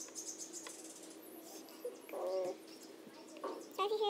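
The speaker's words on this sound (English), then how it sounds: "Sorry if you hear lots of bird calls." Faint chirping bird calls from a nearby nest, several short bursts close together, with soft rustling in between and no one talking.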